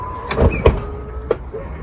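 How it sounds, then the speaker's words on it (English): The boot lid of a BMW 740i M-Sport F01 with a tow bar is shut: a soft whir followed by a muted thud close by, then a lighter click a moment later. "So let's close up the boot so we can see how this car looks like with the tow bar."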